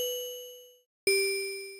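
Synthesized bandura string pluck built in FL Studio, struck twice: each a clean bright ringing note with steady overtones that decays slowly with a long release, separated by a brief silence.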